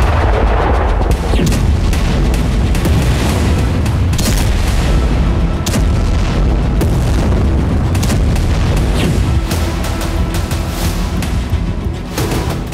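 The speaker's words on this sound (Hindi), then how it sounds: "बस एक ड्रोन से रूस में हो रहे हैं ऐसे धमाके।" Drone strikes in Russia set off a long rolling barrage of heavy booms and crackling blasts, loud and continuous with sharp bursts layered over a deep rumble.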